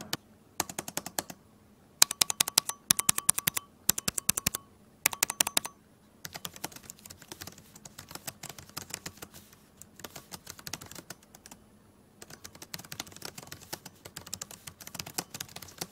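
Rapid clicky typing on a Cherry MX Ultra Low Profile mechanical keyboard in an Alienware m15 R6 laptop, with dense bursts of sharp key clacks separated by short pauses, close and alone with no voices.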